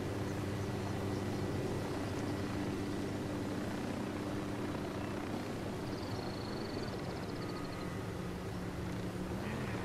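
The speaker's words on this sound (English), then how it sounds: "I was waiting for this helicopter to disappear." A helicopter in the video game Ghost Recon Wildlands drones steadily throughout, a continuous rotor and engine roar at moderate distance with a faint high whine, and no talking.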